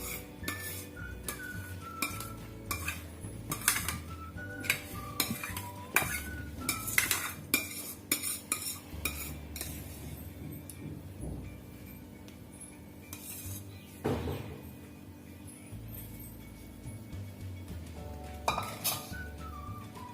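A spoon spreading thick aam papad mango mixture thinly across a ghee-greased tray: repeated scraping and clinking of metal on the tray in uneven bursts, close and fairly quiet, with no talking.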